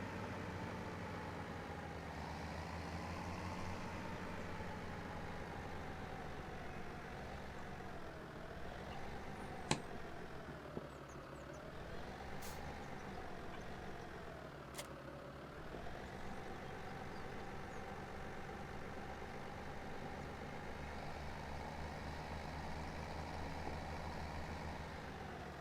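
A tractor pulling a bale trailer in Farming Simulator 17 gives a steady, low, droning engine hum with slight pitch swells, joined by a few brief faint clicks.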